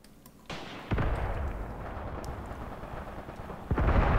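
Mortar strike explosions in the war video game Graviteam Tactics: several heavy booms with rumbling, sustained tails, each loud blast landing a few seconds apart, with no talking.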